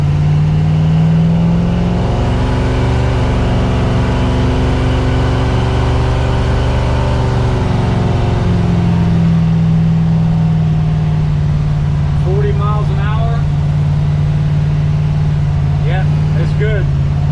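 A small-block Chevy car with a roller cam pulls onto the road and accelerates, its engine drone rising steadily in pitch and loudness, then easing and climbing again, with someone talking over the steady road and engine noise.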